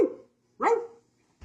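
A human voice imitates the bark of a dog from Elden Ring, giving two short, gruff "roo" barks separated by a pause, close and fairly loud, with the start of a third at the end.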